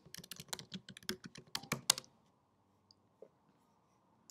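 Quick, close keystrokes on a computer keyboard as a search is typed into a web browser, a steady clatter for about two seconds before it stops and falls nearly silent.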